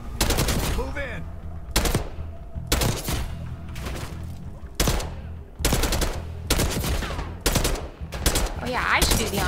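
Rapid machine gun fire in the Call of Duty: Black Ops 6 campaign, loud repeated bursts separated by short pauses, with game ambience and a voice faintly underneath.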